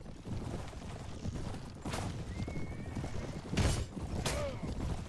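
Horse neighing and clattering hooves during a mounted battle in Mount & Blade: Warband, quiet and busy, with hoofbeats under scattered whinnies and thumps.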